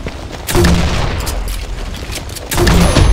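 Two heavy booming blasts from a grenade launcher in the shooter game Combat Master, each a loud thump with a rumbling tail, spaced about two seconds apart over a steady game background, with no talk.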